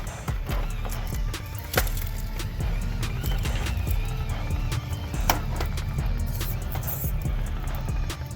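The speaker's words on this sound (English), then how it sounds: "Hopefully you guys can hear that tire rubbing on the inner fender there." A small FCX18 BMW X6 RC trail crawler with its tire rubbing against the inner fender, giving a steady close scraping and ticking texture with scattered sharp clicks, running throughout without talk.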